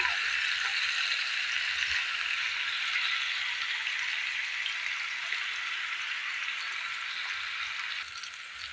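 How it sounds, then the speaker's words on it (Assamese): Jackfruit pieces and potatoes fry in hot oil with a steady, close crackling sizzle that holds even throughout, easing slightly near the end, with no talk. "কঁঠাল কেইপিচ এইদৰে দি অলপ ফ্ৰাই কৰি ল'ম"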